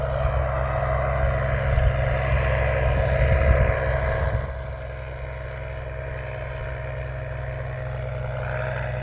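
Dingo 1, a small aircraft, taxiing back down a runway, its engine a steady droning hum that swells loudest around mid-clip and then eases to a lower, constant drone, with no voices.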